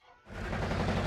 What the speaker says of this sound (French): Ouh, un canon.